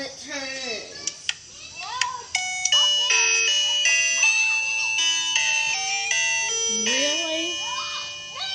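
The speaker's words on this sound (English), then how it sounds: "our doorbell's been sounding weird" A malfunctioning electronic doorbell plays a warbling, glitchy string of chime tones, with pitches jumping and sliding oddly for several seconds, loud and close, with brief sounds of people in the room around it.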